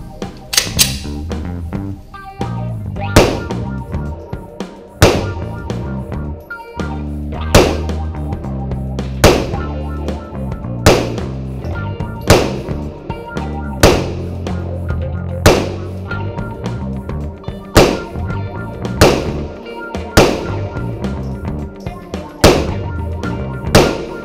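Smith & Wesson M&P 9 Compact 3.6 9mm pistol firing about fifteen loud, sharp shots at a range, in an uneven rhythm with brief pauses between groups of shots.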